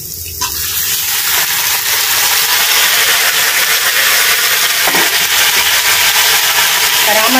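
Tomatoes and coriander stalks hitting a hot frying pan, a loud sudden sizzle that stays as a steady, close, hissing roar to the end, with no talk.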